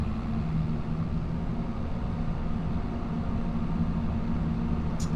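A tractor engine in Farming Simulator 25 rumbles low and steady, a continuous droning idle that holds at an even level throughout, close and alone.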